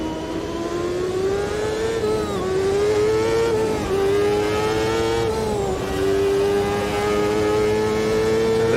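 A race car engine in Automobilista 2 howls loud and steady with a high sustained note that dips and climbs slightly as revs fluctuate through corners, no talk over it.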